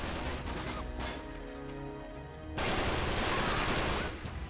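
Sustained gunfire from a firefight in the video game Uncharted 3, a dense loud barrage that eases briefly before swelling again into heavier continuous shooting.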